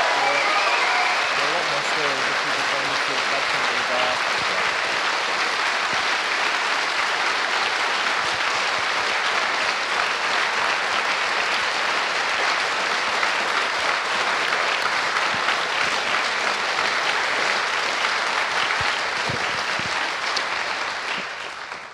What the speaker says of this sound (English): can we get a round of applause for the badge team?